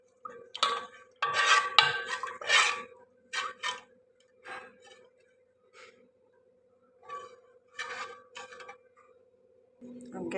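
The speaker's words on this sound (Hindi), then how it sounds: "अब इसमें हम पिसी हुई काजू और इलायची को डाल देंगे। इस सबको अच्छी तरह से मिक्स कर लेते हैं।" A spoon clinking and scraping against a pot while a tikhur mixture with ground cashew and cardamom is stirred, with irregular bursts of metallic ticks, close and clear, separated by short pauses.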